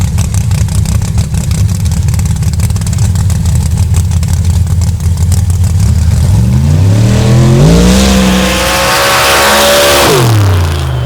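A nitrous-equipped drag racing car rumbles loudly at the line, then its engine revs sharply upward through a rising howl and backs off, heard up close and very loud at a drag strip event.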